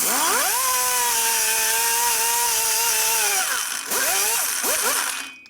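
A rotary cutter porting the cylinder head of a 2005 Sportster XL 1200 whines loudly and steadily, its pitch rising as it spins up, holding, then dipping and surging again as it bites into the metal.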